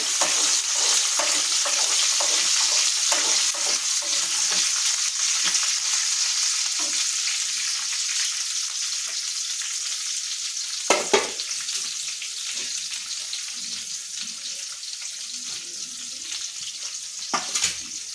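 Green chillies frying in oil with cumin seeds for gongura (sorrel leaf) chutney give a constant close sizzle, broken by a few sharp clinks of stirring against the pan, with no voices.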